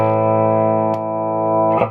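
Electric guitar played through a Hammond AO-44 organ amplifier converted for guitar with a boost circuit, a single sustained, slightly distorted chord ringing steadily, with a short click midway and another at the end.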